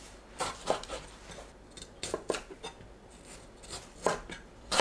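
Knife chopping tomato and kimchi on a cutting board, an uneven series of close, crisp cuts and scraping knocks coming in small clusters, with no speech.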